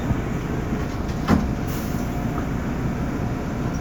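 Queens-bound New York subway J train with R179 cars rolling steadily, a continuous low rumble with a high whine and a brief clunk partway through.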